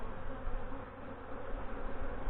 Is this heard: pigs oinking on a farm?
no